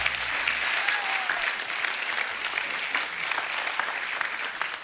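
Steady, dense applause from a studio audience on a TV comedy show keeps going at an even level throughout, with faint whistles mixed in.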